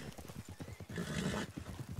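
A horse in the video game Red Dead Redemption 2 neighs over rhythmic clip-clop hoofbeats, a faint, close whinny cutting across steady hooves over about two seconds.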